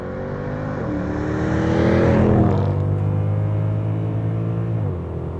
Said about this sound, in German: Dieser sonore V8-Klang, den hat nur dieser Motor so.